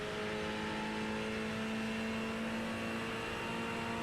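A Ferrari GT3 race car's engine runs at full throttle on the Virginia International Raceway circuit, a steady sustained high-revving drone with strong harmonic tones, heard continuously from inside the car.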